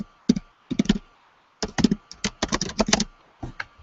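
Bursts of rapid clicking keystrokes on a computer keyboard, close and fairly loud, typed in short irregular runs with brief pauses between them.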